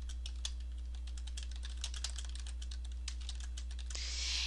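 Typing on a computer keyboard while entering text in Microsoft Access 2007, a rapid run of light key clicks at an even pace, close and faint over a low steady hum.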